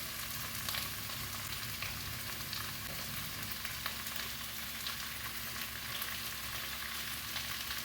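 Fish laid into a Goan-style green curry in a hot pan sets off a steady, close sizzle and bubbling fry that runs unbroken throughout, with no talk.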